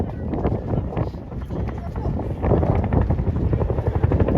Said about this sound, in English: We'll start today by seeing the aircraft conduct a wing over, rapidly turning back onto target